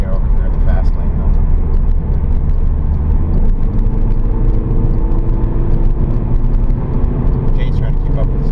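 A biodiesel-powered car accelerating to move into the fast lane, its steady engine and road rumble filling the cabin continuously while people talk over it.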